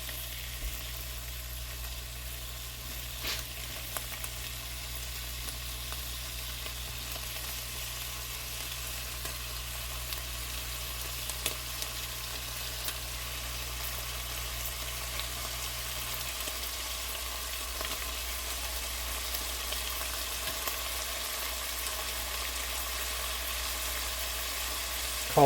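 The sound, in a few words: bacon frying and sizzling in a pot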